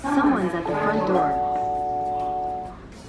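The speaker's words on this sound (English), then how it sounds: "when somebody pushes the doorbell" Nest Hello video doorbell chime sounds through a connected Google Hub smart display, a clear melodic ding-dong tone that rings out and fades as speech overlaps the start.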